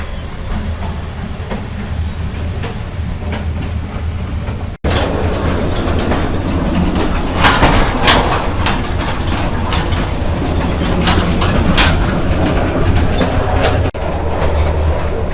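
An overnight sleeper train in Vietnam runs along its tracks, giving a steady loud rumble with rhythmic clickety-clack from the wheels, heard from inside the carriage, with a brief drop near five seconds.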